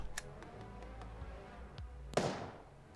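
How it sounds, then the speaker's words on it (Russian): A single sharp gunshot in the police tactics video game This is The Police 2, one crisp crack near the end over a quiet low background hum. "А, давайте в тело выстрелим."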